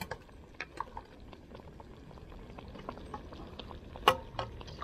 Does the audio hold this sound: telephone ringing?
no